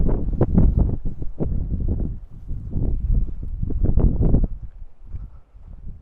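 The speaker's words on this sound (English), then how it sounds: "So unfortunately the wind doesn't help" Wind buffets the microphone in a winter vegetable garden, low rumbling gusts that rise and fall in loud, irregular bursts throughout, with no voices.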